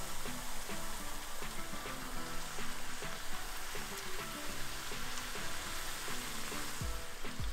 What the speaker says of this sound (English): I'm going to fry about 2 puris at the same time.